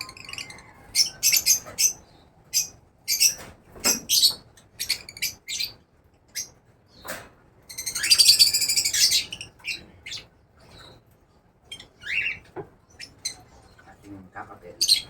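Pet birds chirp in short, sharp bursts close by, with brief pauses between calls and one denser flurry of tweets partway through.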